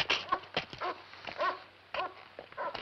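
A dog whimpers in a series of short, high whines and yips, soft and somewhat distant, with no talking over them.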